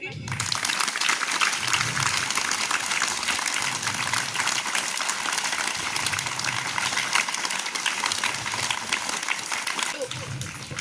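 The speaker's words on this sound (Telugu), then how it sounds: "మీ పిల్లలందరూ ఈరోజు క్లాప్స్ కొట్టి ఒకసారి వినిపియండి" Children clapping at a school parents' meeting fill the scene with steady, dense applause that carries on loudly from start to finish.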